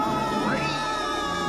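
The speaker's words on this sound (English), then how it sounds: "where did that cat come from?" A cartoon cat lets out a drawn-out, wavering meow, close and prominent over a busy animated soundtrack.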